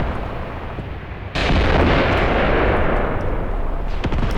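Artillery in the wartime strategy game Graviteam Tactics: Mius Front opens up with a sudden heavy blast, followed by a sustained roar of shell fire and impacts. A few sharper cracks sound near the end.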